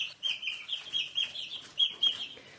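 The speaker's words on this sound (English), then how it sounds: "This is one of my little sable poot chicks." A small Sablepoot chick gives a string of soft, high-pitched clucks and peeps, close by, in short repeated bursts with quiet gaps.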